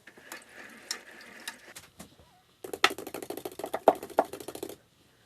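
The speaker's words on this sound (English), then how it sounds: "I'm going to wash the 1-inch brush out." A 1-inch paint brush is washed out, with a few soft scattered sounds followed by a rapid, close burst of rattling taps lasting about two seconds, then quiet.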